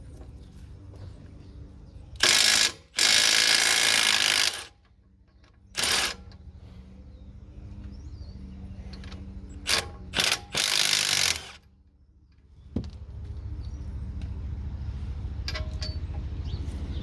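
Ratchet clicks and bursts of mechanical effort as an 18mm bolt is broken free on the front strut of a 2019 MK7 VW GLI, with several sharp loud bursts in a quiet garage.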